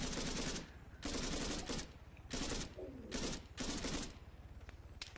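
Bursts of automatic gunfire in Arma 3, a King of the Hill match, aimed at a helicopter dropping off troops: four or five loud sustained volleys separated by short pauses, with rapid repeated shots throughout.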